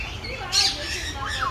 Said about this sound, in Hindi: यहाँ पे ये जो तोते हैं ये बड़े महंगे तोते हैं, ये देखिए।